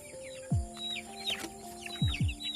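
Broiler chickens cluck in a pen, several close, short clucks and low calls arriving in small bursts with faint background chirping, no voices.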